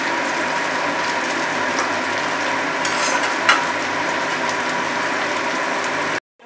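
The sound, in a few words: onion and capsicum frying in a pan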